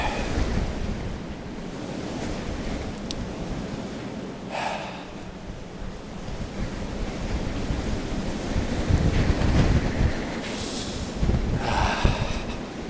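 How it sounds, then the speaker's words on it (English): Strong wind buffeting the microphone inside the Hallgrímskirkja church tower, a continuous rushing roar with gusts swelling and fading, loudest toward the end. "The wind is gushing here through"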